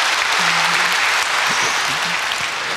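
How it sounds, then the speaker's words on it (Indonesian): A church congregation applauds together at a worship service, a steady broadband wash of clapping that holds loud and even throughout, with faint tonal murmurs beneath. "Mari kita semua tepuk tangan untuk Ivan Kristiono."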